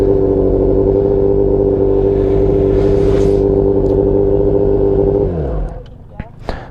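A motorcycle engine runs loud and close at a steady, throbbing pitch during a riding lesson, then abruptly shifts and drops away to quieter rumbling and a few sharp knocks as the bike moves off.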